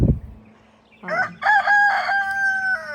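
A rooster crows once, a loud drawn-out call rising and holding before cutting off, preceded by a short thump.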